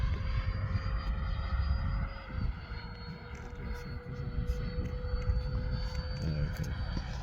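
An RC model F-4 Phantom jet on its maiden flight with flaps lowered, giving a steady, fairly distant engine whine and hum that drones evenly throughout over outdoor background noise.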